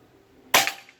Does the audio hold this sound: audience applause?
no